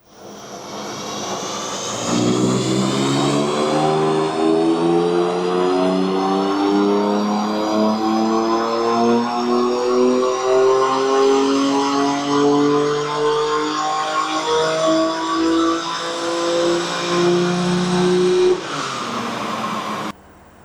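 A performance car with a catless downpipe roars through a full pull on a dyno, its engine note climbing steadily in pitch for about eighteen seconds, loud and close, then dropping off at the end.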